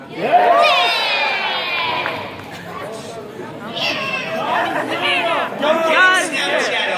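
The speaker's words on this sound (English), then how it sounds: "I do want to take a little video of everybody cheering together." A crowd at the Anime Expo convention shouts and cheers together in loud, overlapping bursts, with chatter in between and a brief dip partway before the noise rises again.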